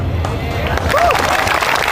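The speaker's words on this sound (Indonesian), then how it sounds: "Tepuk tangan." A large university audience at Trisakti breaks into loud applause and crowd noise, a thick wash of clapping and babble with a voice rising briefly through it.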